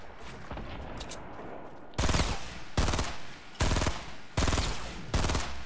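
Video game gunfire with a grenade launcher in a battle royale match, five loud bursts of rapid automatic fire spaced about a second apart, after a quieter stretch of faint action.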